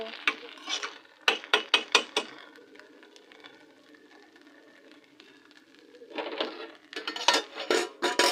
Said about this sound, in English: let's turn the gas off